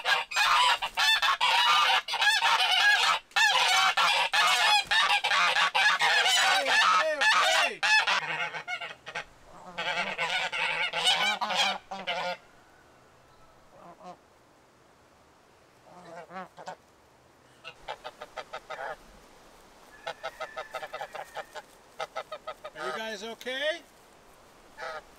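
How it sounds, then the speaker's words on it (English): A flock of free-range geese honks loudly and continuously at close range, then the racket thins into scattered, quieter honks and calls. "the geese are loud and obnoxious and aggressive"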